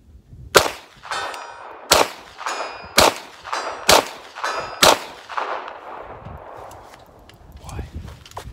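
A CZ Scorpion EVO 3 S1 fires at steel targets at a range, about seven sharp shots at roughly one-second intervals, each followed by the ringing clang of struck steel, with a faint ring trailing off at the end.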